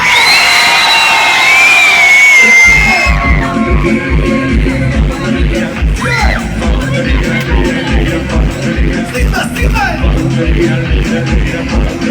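A large concert crowd at an open-air orchestra performance roars and shouts loudly and continuously, a sustained wall of cheering voices after a brief quieter moment at the start.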